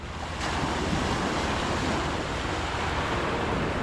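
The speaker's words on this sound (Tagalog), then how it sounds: "Malaki ang alon mga soyo" Large ocean waves surge around a wooden outrigger boat at sea, a loud, close roar of churning water and wind that swells in after a brief quieter start and holds steady, with no talking.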